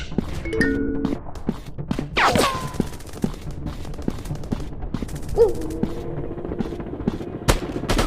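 Gunfire in PUBG, a first-person shooter game, heard as a sparse run of sharp single shots with a few sweeping game effects and chimes in between, moderately loud and without talk.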